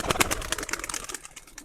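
Racing pigeon cooing nearby in a loft, a steady run of soft pulsing throaty calls, moderately loud and heard alone without talk.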